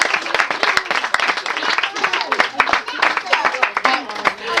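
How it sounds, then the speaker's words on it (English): A round of applause breaks out at a family celebration, dense clapping from a gathered crowd sustained throughout, mixed with some chatter and voices underneath. "So I think they deserve a round of applause."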